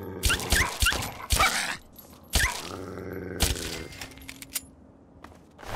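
A dog in the Fallout 3 video game growls and whimpers in short, uneven bursts, with scuffling and scraping between the yelps. The sounds are close and fairly loud early on, then thin out into sparse faint noises.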